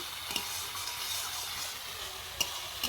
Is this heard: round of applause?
no